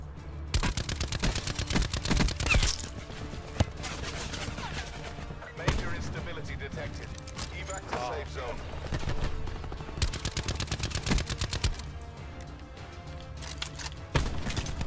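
Rapid gunfire in Call of Duty: Black Ops 4 Blackout crackles in sharp repeated bursts of automatic shots with scattered single cracks, loud and close, with a player's voice occasionally heard over the shooting.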